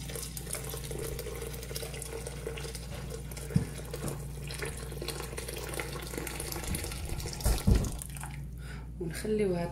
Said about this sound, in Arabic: وناخذ الماء سخون سخناه من قبل، نخويوه عليها في جناب